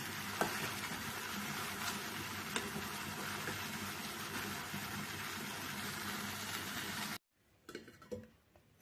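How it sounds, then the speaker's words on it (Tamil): Kadai chicken fries in oil with a steady, soft sizzle and faint crackles for about seven seconds, then cuts to near silence with a few light clinks. "இப்படி எண்ணெயிலே வேகட்டும் மூடி விட்டுடலாம் ஒரு அஞ்சு நிமிஷம் அப்படியே எண்ணெயில் வேகட்டும்"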